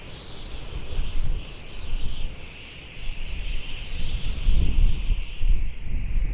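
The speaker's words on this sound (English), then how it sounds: "This wind is something else." Strong wind on Florida's west-central coast by the water buffets the microphone in heavy, gusting low rumbles that rise and fall, with a faint high hiss and possible bird calls behind.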